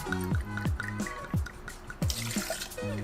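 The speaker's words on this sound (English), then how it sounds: "We're starting out with 2 ounces of Peruvian Pisco." Two ounces of Peruvian Pisco poured into a Boston shaker, heard as a close, dripping trickle of liquid that starts and stops in short bursts over a few seconds.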